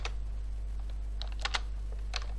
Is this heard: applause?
no